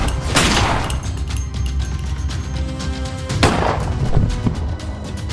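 Gunfire effect in a Hindi horror audio drama, two heavy booming shots about three seconds apart with a rumbling, reverberant tail between them, no voices.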